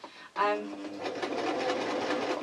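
A serger stitching a seam on a t-shirt fabric hoodie, starting after a brief pause and running as a fast, steady mechanical whir with a rhythmic clatter, close by.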